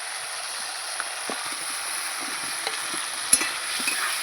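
Pumpkin being stirred into spice masala in a pan for a hilsa fish curry, giving a steady low sizzle with a few soft scraping clicks of the spoon, fairly quiet and without talk.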